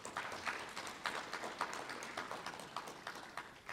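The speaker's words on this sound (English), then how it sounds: "Let's give a round of applause for our Chancellor." An audience in a hall applauds the Chancellor after a talk, a quiet, steady patter of many hands clapping together for several seconds.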